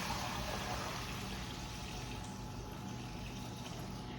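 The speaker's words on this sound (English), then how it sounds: "I'm going to pour the water in here." Water pours steadily into a container while cooking koki, a continuous, fairly loud rushing splash with no talk over it.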